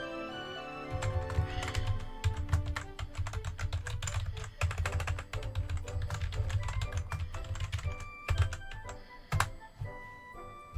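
Rapid, steady typing on a computer keyboard, close and fairly loud, with clustered keystroke clicks running continuously through the whole stretch under a low background hum and faint tones.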